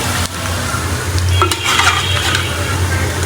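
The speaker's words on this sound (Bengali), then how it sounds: "আমি পেঁয়াজটা ভেজে নিচ্ছি" Onions fry in a pan and are stirred, with a continuous sizzle, a sharp knock near the start and scraping utensil strokes partway through, all close and fairly loud.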